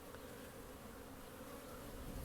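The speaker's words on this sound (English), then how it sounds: "That is such a reassuring buzz, a hum, that you just hear on these hives." Honey bees buzz steadily at a beehive just after a long winter, a continuous close-up hum of many wings holding even and unbroken throughout with no voices.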